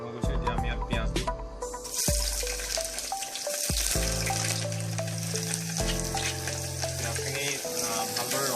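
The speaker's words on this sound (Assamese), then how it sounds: "তেলটো গৰম হৈ গৈছে, এতিয়া আমি ইয়াত পিঁয়াজ দিম।" Onions frying in hot oil in a pressure cooker, a constant close sizzle running under sustained musical tones, with a few sharp clatters and no clear talk.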